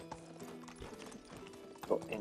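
Horse hooves clip-clop in the medieval survival game Medieval Dynasty, a quick irregular run of hoof knocks over background game sound and music tones, with a brief louder thump near the end.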